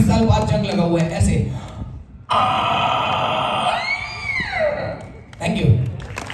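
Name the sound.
comedian imitating a rusty door creaking open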